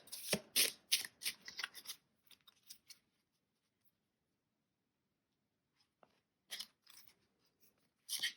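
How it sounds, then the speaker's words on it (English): Crisp bursts of tarot cards being shuffled close up, a quick run of riffles at the start, a pause of near silence, then more shuffling near the end. "Maybe I need to keep shuffling."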